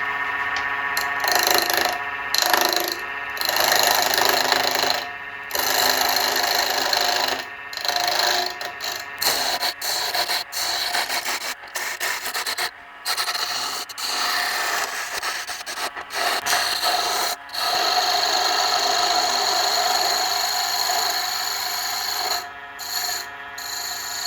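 Wood blank spinning on a lathe as it is turned round, giving a rough, uneven scraping and chattering of the tool against the wood, with brief drop-outs and pauses throughout.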